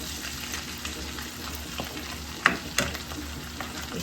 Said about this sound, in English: so I'm going to give it a stir